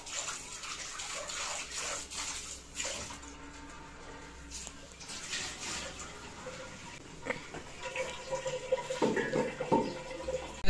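Food is washed under running water at a kitchen tap, with a steady splashing flow, some hand rubbing and dripping, growing louder and more agitated toward the end.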